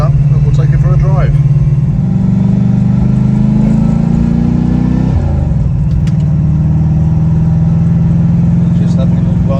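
A Ford GT40 replica's engine warms up with a loud, close rumble, the revs climbing steadily for a few seconds before dropping back to a lower idle; someone talks over it.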